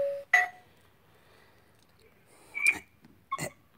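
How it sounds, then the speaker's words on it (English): An ieGeek 1080P wireless video doorbell camera rings through its phone app, giving three short, separate electronic tones spaced across a few seconds. Each tone is brief and moderately loud over a quiet room. "I'm going to go inside and have my son ring the doorbell and answer it on my phone"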